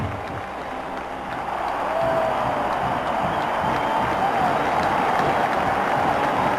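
A sellout crowd roars at Neyland Stadium in Knoxville for a Georgia versus Tennessee college football game, a dense, sustained wash of cheering that swells louder after the first couple of seconds and holds steady.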